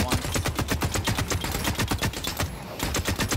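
Rapid automatic gunfire in the shooter game The Cycle: Frontier, loud dense bursts of shots in a fast regular rhythm with a brief gap near the end before firing resumes.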